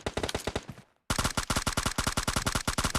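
Rapid automatic gunfire in a multiplayer shooter video game, loud sustained bursts of evenly spaced shots, a brief pause near the first second, then another long continuous burst.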